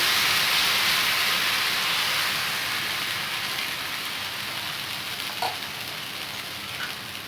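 Suji uttapam batter sizzles on a hot pan as it is spread, a steady bright hiss like light rain that gently tapers off over several seconds, with a faint clink near the end.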